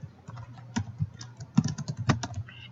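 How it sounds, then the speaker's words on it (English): Typing on a computer keyboard while entering text in a word processor, a quick uneven run of close, crisp key clicks with a few louder taps, no talking. "I am actually going to type something"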